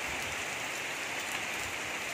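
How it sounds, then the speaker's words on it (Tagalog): Heavy rain pours steadily in a dense, even hiss, drops drumming continuously on surfaces with no voices. "Tapos biglang humangin, tapos umulan."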